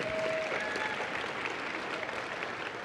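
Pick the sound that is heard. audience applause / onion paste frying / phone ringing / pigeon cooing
audience applause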